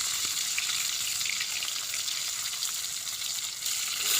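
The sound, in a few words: tilapia fish frying in hot oil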